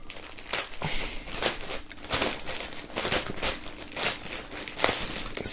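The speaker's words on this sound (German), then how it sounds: "Wir machen die Folie mal ab." Plastic shrink-wrap foil is peeled off a shirt and book during an unboxing, crinkling and crackling loudly and continuously in close, uneven bursts.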